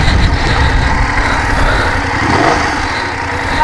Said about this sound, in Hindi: इसका एग्जॉस्ट सुनो